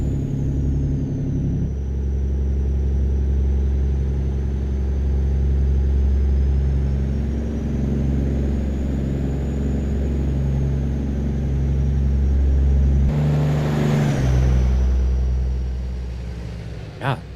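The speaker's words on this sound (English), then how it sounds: "God damn, this engine sound" A heavy truck engine in American Truck Simulator rumbles loudly and steadily for the whole stretch, deep and continuous, with a brief surge of noise near the end.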